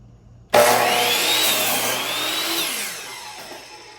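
A Metabo HPT miter saw cuts into wood: a sudden loud whine kicks in and holds through the cut for about two seconds, then winds down and fades as the blade slows, with no voices.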